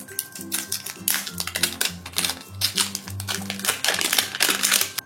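A banana-shaped plastic blind bag is peeled open, with steady crinkling and crackling of the wrapper close by, alone over soft background music.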